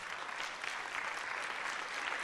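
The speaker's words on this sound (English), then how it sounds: "please stand up so we can give them a round of applause" A steady round of applause from a conference audience, even dense clapping at moderate distance that holds for the whole stretch with no voices above it.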